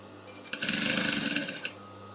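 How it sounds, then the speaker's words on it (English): A sewing machine top stitching the yoke of a bustier runs in one steady, rapid stitching burst lasting just over a second, close and fairly quiet against a low background hum. "You take it easy and sew gently,"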